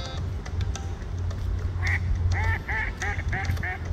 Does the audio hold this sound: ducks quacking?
yes